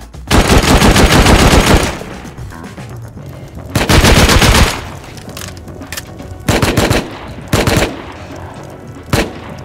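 Rapid automatic gunfire from the video game Rust comes in loud, close bursts: a long volley, a second long burst, then several shorter bursts with gaps between.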